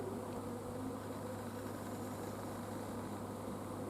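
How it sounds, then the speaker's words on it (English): A steady, dense buzzing hum of a bee swarm fills the air continuously, with a low droning tone underneath and no voices. "we are having a bee swarm"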